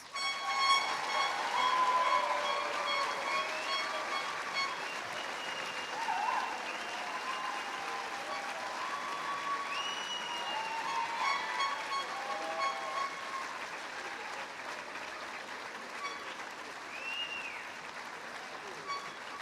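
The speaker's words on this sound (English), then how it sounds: "Please give them a big round of applause." Long, sustained applause from a large audience at a graduation convocation ceremony, steady and even, with a few faint cheers or whistles mixed in.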